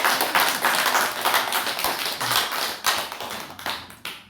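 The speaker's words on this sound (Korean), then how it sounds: "박수 한번." A church congregation claps during a Sunday testimony service. The sharp, quick clapping holds steady, then thins out and trails off near the end.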